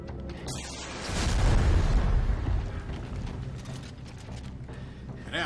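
Bomb run explosion in the video game Dead Space 3: a loud deep boom swells and rumbles for a couple of seconds, then fades into grinding mechanical clatter and creaks.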